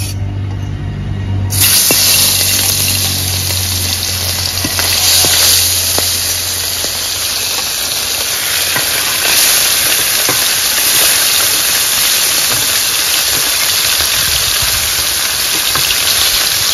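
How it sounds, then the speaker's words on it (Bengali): Bele fish is slipped into hot oil in a heated kadai. A loud sizzle bursts in after a quiet second and a half, then crackles and hisses steadily at close range, with no talking over it. "তেলে মাছ ছেড়ে দেব।"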